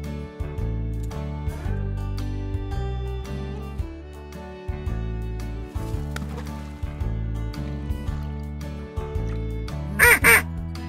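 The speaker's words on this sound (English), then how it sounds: "Duck." A duck gives a short burst of loud quacks at the very end, over bright, continuous children's background music.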